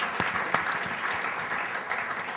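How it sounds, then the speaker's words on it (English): Audience applause at a tech startup pitch event, a steady crackle of many hands clapping together for a couple of seconds, fairly close and without talk. "Round of applause for Daniel."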